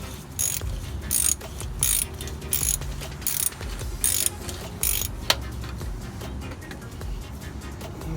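A ratchet wrench tightens the oil drain plug on a Toyota Tundra, heard as several loud bursts of rapid clicking strokes with short pauses between them, close up and with no talking.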